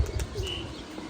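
A flock of released pet pigeons flying over their loft, giving short chirps and coos with a hint of wing flaps at the start, fairly near and set against a constant outdoor hum.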